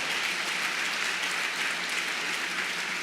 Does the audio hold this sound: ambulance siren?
no